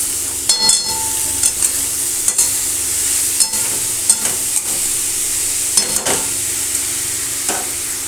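Spices and dried chili frying in oil, then bottle gourd added to the pan for a prawn curry, giving a continuous hissing sizzle broken by repeated scraping stirs, loud and near with no talk.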